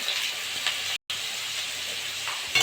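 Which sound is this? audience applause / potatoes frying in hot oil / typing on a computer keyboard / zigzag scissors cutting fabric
potatoes frying in hot oil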